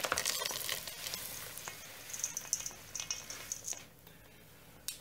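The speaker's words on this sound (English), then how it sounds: "You mix the lot together." Cacao nib cookie ingredients, including banana and oatmeal, are stirred together in a bowl, making close, wet squishing and scraping strokes in an uneven rhythm that fade toward the end, with no talk.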